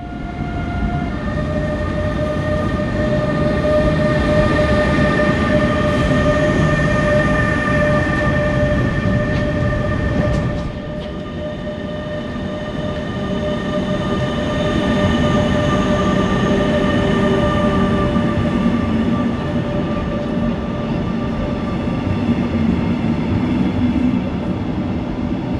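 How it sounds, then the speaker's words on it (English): A regional train hauled by a class 146 locomotive with double-deck coaches arrives at Falkenberg-Elst, rumbling steadily close by with sustained engine and electric hum, steady tonal whine throughout, briefly dipping midway before the loud running noise resumes. "As I said, our train consists of a class 146 locomotive and Dostos."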